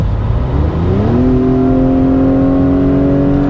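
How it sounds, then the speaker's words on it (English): A 2021 Acura TLX A-Spec in sport mode accelerates hard, its engine note climbing after a brief pause as it downshifts, then holding a loud, steady rising drone heard from inside the cabin. "i'm going to mash on the gas and just watch how long it takes to downshift"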